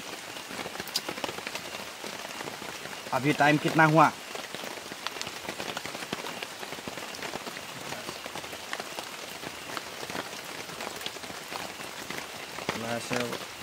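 Light rain falls steadily through a forest at night, a constant close hiss of drops on leaves and ground that runs the whole length, with brief bursts of someone talking near the start and end.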